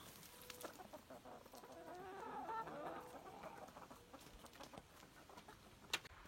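Ameraucana chickens cluck softly and steadily nearby, a low murmuring chatter with a sharper cluck near the end, no voices.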